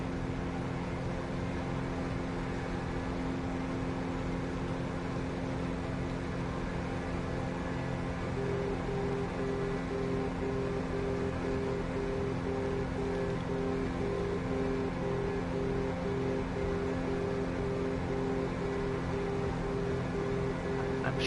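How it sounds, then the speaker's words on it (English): A steady electronic VOR radio beacon tone pulses in a regular on-off pattern, faint beneath a constant low engine drone inside an aircraft in Microsoft Flight Simulator. "It's the noise of a beacon below us."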